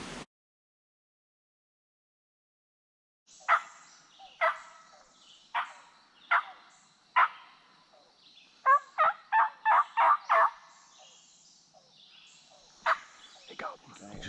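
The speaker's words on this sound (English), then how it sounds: "He gobbled. He just gobbled." Wild turkey in Alabama woods gobbling in a string of distant, sharp calls, a few spaced bursts followed by a rapid cluster and one final gobble, against near silence.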